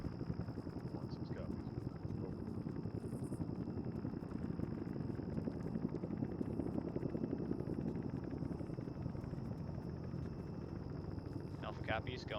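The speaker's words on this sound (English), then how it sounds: "Oh, those new helicopter sounds are so good." In a military video game, a steady helicopter rumble hums at a moderate distance with a thin whine layered on top, and a short burst of other game noise comes in near the end.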